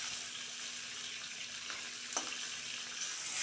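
Prawns fry in hot oil in a pan, giving a steady, close sizzle that runs unbroken with no voices.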